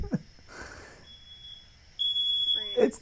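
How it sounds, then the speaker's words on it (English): A building smoke alarm goes off with a shrill, steady electronic tone that cuts in and out, loud and close, with people talking and reacting around it. "It's the alarm."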